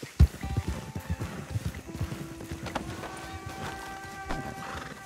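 Horse hooves clip-clopping in Red Dead Redemption 2, a rhythmic gallop with a whinny, moderately close, with brief game ambience.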